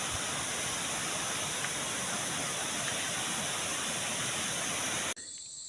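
A 50-foot waterfall roars steadily in a loud, dense, unbroken rush of falling water, which drops abruptly to a quieter hiss near the end.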